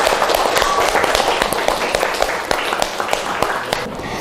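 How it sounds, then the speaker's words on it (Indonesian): A classroom of students applauds with dense, steady clapping that stays fairly loud and close for the whole stretch, with no clear talk over it. "Beri tepuk tangan."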